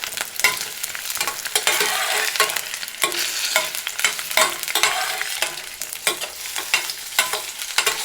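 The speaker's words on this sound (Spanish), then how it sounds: "Vamos a dejar 1 minuto que se dore la cebolla" Chopped onion browns in a hot pan for stewed beans, giving a continuous loud sizzle and crackle with scraping stir strokes throughout, close up and without talk.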